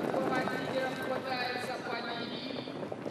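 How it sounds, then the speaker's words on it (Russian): Trotting horses in a harness race at the Barnaul hippodrome produce rapid clip-clop hoofbeats over the track, close and steady beneath a race commentator's continuous announcing. "Лошадь входит во второй правый поворот."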